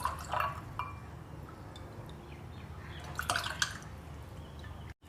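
Prepared sharbat syrup poured into a glass of cold milk over ice and jelly, giving a soft, close trickling and dripping with a few brighter splashes.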